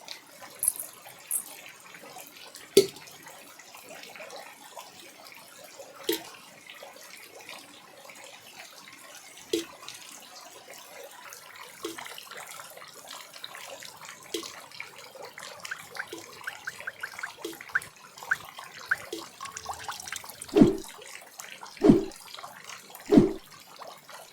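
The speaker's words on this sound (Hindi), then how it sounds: "घर में पानी की बूंदें टपकने लगे।" Scattered water drips from a leaking roof in an old mud house fall at irregular intervals, a few louder plinks near the end, against a quiet indoor background.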